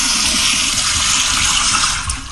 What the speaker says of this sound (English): Just flush it all away at this point. The power flusher.